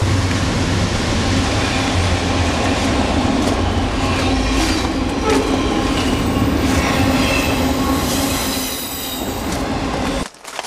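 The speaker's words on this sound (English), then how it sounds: "Train started already." A graffiti-painted train pulls out and runs along the rails, a loud, continuous rumble of wheels and carriages with rattling and squeal, close by, before the noise drops sharply at the very end.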